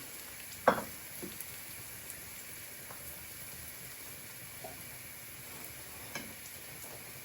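Carrots fry in a pan for buckwheat mushroom soup, a soft, quiet continuous sizzle broken by a sharp utensil clack near the start and a few light stirring taps.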